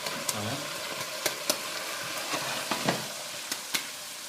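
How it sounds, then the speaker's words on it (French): Couscous base stirred in a pot over low heat for chicken and merguez couscous, a soft steady sizzle broken by sharp spoon scrapes and knocks against the pot at irregular intervals, close by with no talk. "On mélange. Tout en laissant sur un feu doux, tout ça."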